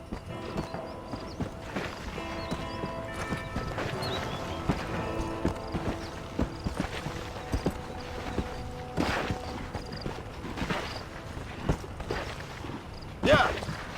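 A horse walks at a steady pace in the Western video game Red Dead Redemption, its hooves clip-clopping in an even rhythm under faint voices and ambient game sound.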